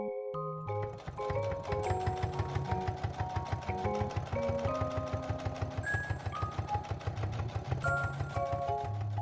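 A sewing machine stitches down a folded one-inch fabric casing, chattering in a fast, steady mechanical rhythm from start to finish, close and prominent with no talking.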